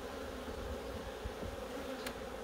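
Honey bees at an opened colony hive, checked for brood, fill the air with a dense, steady buzzing close up, faint overall, with a few small knocks and one sharp tick.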